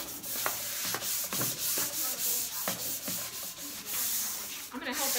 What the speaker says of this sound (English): I'm gonna help it get just a little more chippy and do the electric sander here.